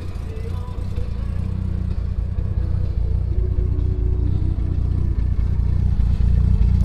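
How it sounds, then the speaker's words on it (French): A Jaguar E-Type Series 2 with a deep burgundy wine-red exterior rumbles steadily through its exhaust, a low continuous engine note held close throughout, with someone speaking French over it. "sonorité à l'échappement délicieuse."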